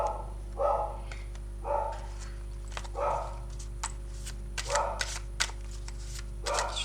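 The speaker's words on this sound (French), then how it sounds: "Je suis désolée pour le chien qui aboie" A dog barks from a distant room of a house, several separate bursts of barking spaced across the clip, muffled and moderately faint over a steady low hum.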